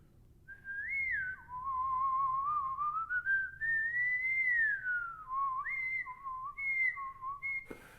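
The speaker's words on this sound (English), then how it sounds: "one way that you can experience this is to try and whistle" A single person whistles a slow, wandering melody, clear and close, with sliding pitches and brief breaths between phrases.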